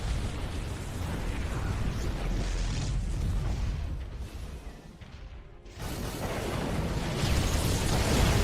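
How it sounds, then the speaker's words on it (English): Disruptor shots exploding in StarCraft II amid battle against Thors and Battlecruisers: a dense, continuous wash of booming blasts and rumble that dips briefly midway before surging back loud. "A couple of Disruptor shots trying to come through"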